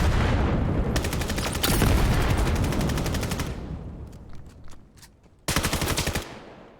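Automatic gunfire in the tactical shooter Vail during a competitive match, with a long rattling burst, a few scattered single shots, then another sharp burst close by.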